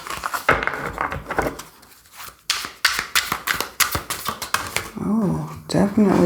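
Tarot deck shuffled overhand, a series of quick papery riffling slaps in bursts, close and fairly loud, with a person talking briefly in between.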